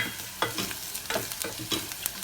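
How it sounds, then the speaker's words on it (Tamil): Chopped onion and green chillies sauté in a hot pan for a spicy tomato soup, with a soft sizzle under a few distinct scraping stirs of a spoon, spaced roughly every half second. "வெங்காயம் வதங்கின உடனே அதில் பச்சை மிளகாய் உள்ளே போட்டு"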